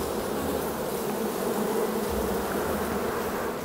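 Dense, continuous buzzing of many honey bees at a hive close by, a steady droning hum with no pauses and no voices.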